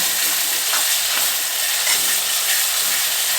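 Coarsely crushed ginger and garlic fry in a pan with onion and tomato for dry chicken fry, giving a loud, steady, close sizzle with faint stirring and no talking.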